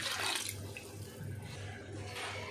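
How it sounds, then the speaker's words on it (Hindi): Just over a litre of water poured into a cooking pot for biryani, a steady faint gush and splash running continuously and low, with no talk over it. "इसमें हम 1 लीटर से थोड़ा सा ज़्यादा हम पानी ऐड कर देंगे।"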